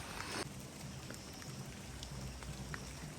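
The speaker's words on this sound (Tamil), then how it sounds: "மழை வந்து இப்போ வந்து தூரிக்கொண்டு தான் இருக்குது" Light, steady drizzle during a storm patters continuously on surfaces nearby, a soft even hiss with scattered distinct drops, faint and unbroken.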